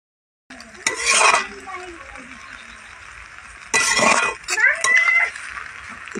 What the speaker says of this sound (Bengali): খুব সুন্দর করে আবারও নাড়াচাড়া দিয়ে এবার ভালো করে ভেজে নেব